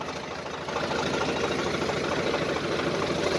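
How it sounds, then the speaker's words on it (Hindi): A Swaraj 744 FE tractor engine pulling in first gear runs steadily with a dense, rumbling chug that grows slightly louder after a moment, close and continuous. "तो ये देखो, फर्स्ट पहले गियर में डाल दिया ट्रैक्टर"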